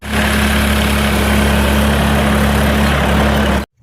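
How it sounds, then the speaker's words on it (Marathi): A tractor engine idles loudly and steadily at close range with a constant low throb, then cuts off abruptly at the end. "बसायचं आता ट्रॅक्टरवर"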